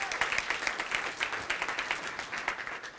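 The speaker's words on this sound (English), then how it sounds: "Give these guys a round of applause for putting on an awesome event." An audience at the HOTHCON 2018 conference gives its event organizers a round of applause: dense, steady clapping from many hands that holds at an even level throughout.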